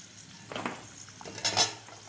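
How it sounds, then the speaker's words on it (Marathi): Cashews, almonds and raisins fry in oil for a sweet, tangy and spicy corn-poha chivda, with a faint sizzle and a few soft stirring clinks from the pan. "काजू बदाम आणि बेदाणे व्यवस्थित तळलेले आहेत"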